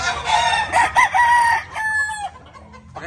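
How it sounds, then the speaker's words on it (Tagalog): Young pullet clucking and squawking loudly at close range while laying an egg, a run of sharp, rising-and-falling calls followed by a brief pause. "Yung isa sa mga idadagdag natin na pulet na ipamimigay. Yan, nangingitlog na siya ngayon."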